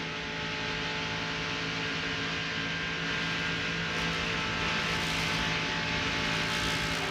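Mark Martin's NASCAR stock car at Daytona holds a flat-out engine drone at full throttle near 200 mph, steady and loud with no break, heard from on board.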